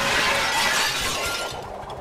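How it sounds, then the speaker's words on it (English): Window glass shattering as Batman crashes through, a loud burst of breaking glass with scattered tinkling shards that fade over two seconds. "He came crashing through the window"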